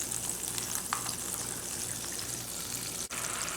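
An egg fries in butter in a medium pan, giving a steady close sizzle that holds evenly through the short stretch, with no one talking.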